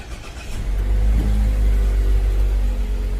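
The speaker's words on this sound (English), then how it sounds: "so let's try to start the engine." A 2018 Mazda CX-3 2.0 FWD automatic starts with a push button: a short crank gives way to a steady, close, low engine idle rumble that holds evenly to the end, with no talking.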